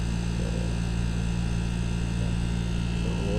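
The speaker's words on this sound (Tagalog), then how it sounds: "So yan po yung tunog ng kanyang compressor" A constant low mechanical hum drones steadily with a buzzing electrical tone, unchanging throughout, like a motor running close by.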